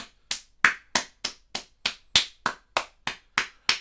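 Hands slap the legs in a self-massage routine, a steady series of about twelve sharp, evenly spaced slaps, close and crisp, with no talking.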